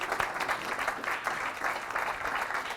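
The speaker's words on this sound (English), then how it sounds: "Can I just have a round of applause for Terence," An audience gives a round of applause in an indoor talk setting, the clapping dense and uneven with a few louder claps standing out, continuing throughout without talk.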